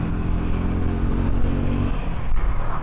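A Triumph Scrambler 400X motorcycle on a first ride, engine droning steadily with a low rumble and rushing wind, rising briefly near the end; no talking.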